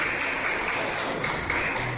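A church congregation applauds during a worship service, giving a steady, dense wash of clapping from many hands that holds evenly for the whole stretch.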